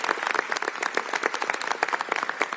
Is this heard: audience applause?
yes